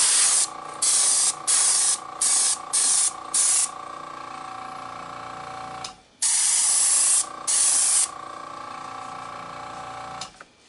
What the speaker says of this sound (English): we're going to just apply a little more paint to the side here